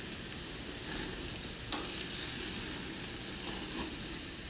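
Chicken and broccoli cooking on a grill, a steady bright sizzle and hiss continuing without pause, with a faint scrape or clink now and then.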